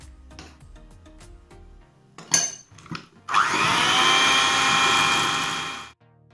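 An electric hand mixer whirs steadily at low speed for about three seconds as flour is blended into batter for a chocolate cottage cheese pie, preceded by a few short clatters and bumps.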